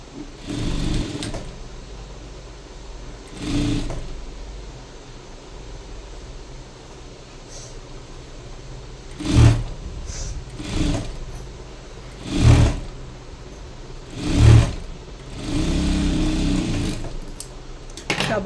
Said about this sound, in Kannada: ಡಬಲ್ ಸ್ಟಿಚಿಂಗ್ ಅನ್ನೋದನ್ನ ಹಾಕಬೇಕು